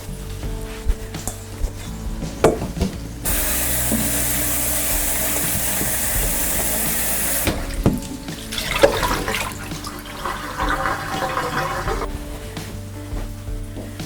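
Peeled potatoes are washed under a running kitchen tap, a steady rushing stream that swells into a loud, dense gush in the middle, with clatter and knocks around it.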